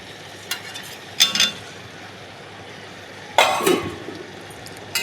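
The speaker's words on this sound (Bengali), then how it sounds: "এরপরে দিয়ে দেবো ভেজে রাখা আলুগুলো দিয়ে দিচ্ছি" Fried potatoes tipped into a pan of cooking chicken curry, giving two short bursts of clattering and sizzling scrapes against the pan, close and moderately loud over a quiet background.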